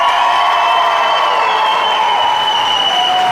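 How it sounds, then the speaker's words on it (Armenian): A crowd at a celebration in Yerevan claps and cheers, a dense, steady wash of applause with shrill whoops riding on top, loud and continuous throughout. "Պեսայի կողմնա ծափեր տալի"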